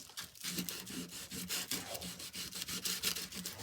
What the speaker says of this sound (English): I just scrape this off a little bit so that the glue will